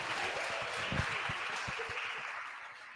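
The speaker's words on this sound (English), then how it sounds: "now you guys give these guests a big round of applause" Applause from an audience welcoming guests at a team opportunity meeting, a steady wash of many hands clapping at moderate level for the full stretch, with a few sharper low thumps and no voices.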